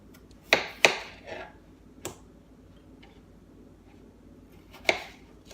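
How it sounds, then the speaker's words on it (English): A good knife cuts peeled, washed potatoes into blocks on a board, making a handful of sharp, close chops, two quick ones together and then scattered single cuts with quiet pauses between. "and you cut them in blocks"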